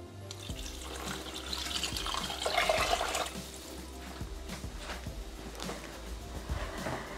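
Water poured from a tap into a Thermomix mixing bowl for baked rice with ham and cheese, a continuous splashing and gurgling stream that swells midway and carries on steadily, nearby and alone.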